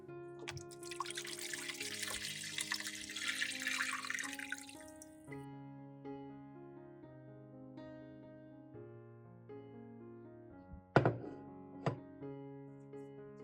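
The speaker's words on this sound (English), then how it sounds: "Pour away the garlic-soaking water." Garlic-soaking water splashes and pours out at the start, then fades, leaving quiet clinks and a couple of sharp knocks near the end.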